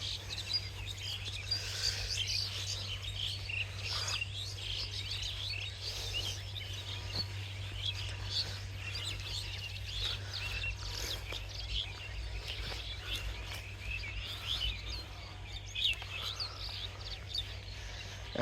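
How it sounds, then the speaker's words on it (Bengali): A large flock of pigeons feeds on leftover rice in a harvested paddy field at a rural development academy in Bogura, giving a continuous bed of chirps and calls over a steady low hum, with no talking. "এখানে কয়েকশো কবুতর আসছে ধান খাওয়ার জন্য।"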